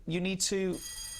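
A building fire alarm test rings as a high, bell-like electronic tone. It cuts in after a short burst of voice and holds as a steady high ring, heard faintly in an indoor room.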